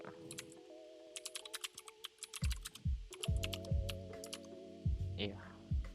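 Computer keyboard typing in LibreOffice Writer on a Debian 10 desktop: irregular bursts of sharp key clicks, close and fairly quiet, with a steady tonal hum underneath and no talking.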